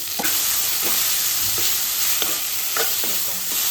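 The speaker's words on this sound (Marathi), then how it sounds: "याला छान मस्त याला फोडणी बसली, छान फ्राय झाले" Whole spices tempering in hot oil for masala dal khichdi sizzle steadily and close up, with a spoon stirring and scraping the pan every second or so over a constant frying hiss.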